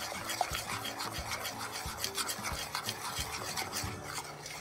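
A cheese mixture is stirred fast in a pot, giving quick rhythmic rasping strokes of the spoon scraping the bottom, close and moderately quiet with no talking.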